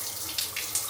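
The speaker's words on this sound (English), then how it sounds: "we've got the hot tap here, which the water actually, it takes maybe a minute to heat up" Water running from a hotel bathroom tap, a steady close hiss of flow with a few brief splashing surges and no talking.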